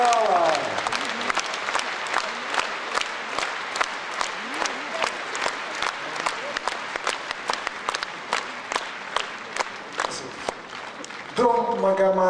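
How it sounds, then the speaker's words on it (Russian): A full concert hall applauds at an anniversary concert honoring a singer, steady dense clapping sustained for several seconds before a voice begins speaking near the end. "И аплодисменты всего зала."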